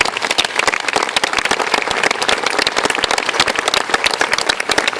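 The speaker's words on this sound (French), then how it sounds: "je pense qu'il mérite une bonne main d'applaudissements" Audience applause at a posthumous tribute evening for Clovis Langlois, a dense sustained clapping from a full hall, steady and loud throughout with no voices over it.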